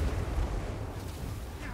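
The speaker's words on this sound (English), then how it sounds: "Some allied Kroxagors are just weathering this hail of rattling gunfire." Dense, rumbling gunfire rattles in a sustained, loud volley during a battle in the strategy game Total War: Warhammer 2.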